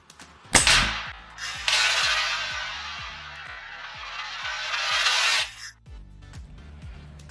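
A Diana Outlaw air rifle loaded with JSB Exact pellets fires once through a chronograph with a sharp, close crack, followed by a long rushing hiss, while faint regular ticking runs underneath.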